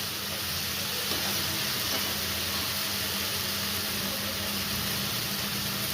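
Okra and potato curry with ground mustard and spices is stirred and fried in a pan, giving a steady, close broadband sizzle and hiss with faint scraping from the stirring, no voices.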